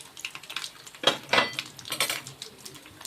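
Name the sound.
turning fried fish pieces in a pan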